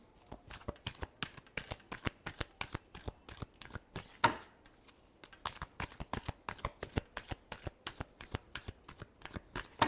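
Tarot cards shuffled steadily in a quiet room, a fast run of crisp papery riffles and slaps in even bursts with a brief pause midway, close and alone without any talking.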